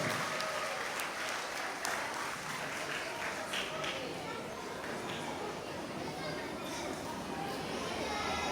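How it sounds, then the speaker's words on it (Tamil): Sustained applause from an audience at a Tamil school awards day and graduation ceremony, greeting the year 6 pupils as they arrive; dense steady clapping fills the space from start to end, with faint crowd murmur underneath. "ஒரு பலத்த கரயோசம் வழங்க"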